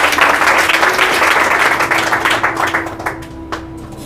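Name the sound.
audience applause for students awarded medals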